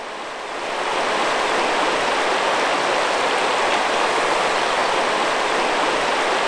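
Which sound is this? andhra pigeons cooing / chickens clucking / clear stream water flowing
clear stream water flowing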